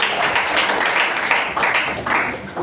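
Studio audience claps loudly for a man named Vijay on a Hindi family show, a dense, steady wash of applause filling the whole stretch without pause.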